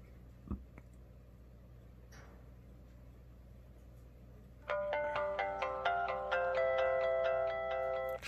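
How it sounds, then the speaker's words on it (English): An LG VX9900 enV phone on Pageplus plays its Verizon boot sound, a bright electronic chime melody that starts abruptly after a few faint clicks and rings on steadily, close and clear. "Still keeps the Verizon boot sounds."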